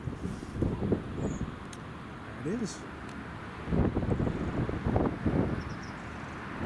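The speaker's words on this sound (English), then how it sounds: "Wind's definitely gusting a little bit more than it was before." Gusting wind buffets the microphone at an airport during planespotting, rising and falling in loud rumbling surges while someone speaks briefly.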